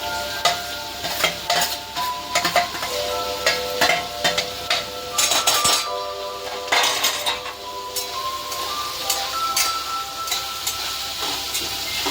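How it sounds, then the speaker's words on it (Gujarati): Carrots and cabbage sizzle in a pan while being stirred for pasta, with steady frying hiss under frequent close clinks and scrapes of a utensil against the pan. "પછી ગાજર નાખી દઉં છું, છેલ્લે કોબી નાખી દઉં છું"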